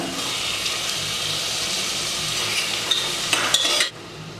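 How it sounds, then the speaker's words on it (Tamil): Tomatoes and coriander leaves are stirred and sautéed in a pan for mutton kheema biryani, giving a steady close sizzle with light scraping, a few sharper clinks near the end, then a sudden drop to quiet. "மல்லி இலை தக்காளி தக்காளி நல்லா மசீர வரைக்கும் வதக்கி விடுங்க"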